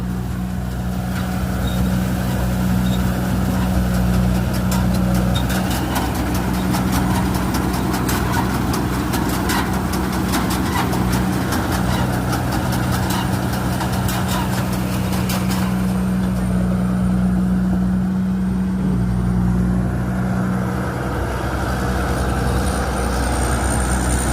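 A rice combine harvester's engine runs steadily in a paddy field during dry-season harvest, a loud continuous low drone with a faint rhythmic mechanical ticking over it, close by and unbroken throughout.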